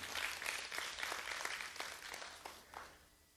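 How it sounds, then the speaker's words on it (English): A church congregation clapping during a Sunday morning service, a faint, distant wash of applause with a few sharper claps standing out before it fades. "Give the Lord a big hand clap this morning."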